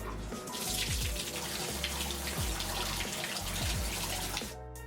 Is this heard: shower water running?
yes